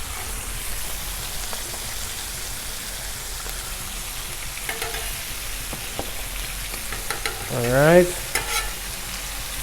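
Breakfast sausage patties sizzle on a Blackstone griddle, a dense continuous frying hiss like light rain, with a brief scraping spatula sound near the end and a single short spoken word.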